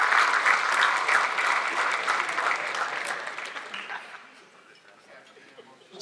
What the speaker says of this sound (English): let's have a round of applause for the kitchen staff here and all the hands that prepared our meals here tonight.